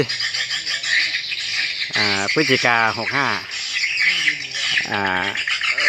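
Loud, repeated bird chirps and squawks of swiftlet calls play from a recording, in bursts over a constant buzzing background, with someone speaking briefly.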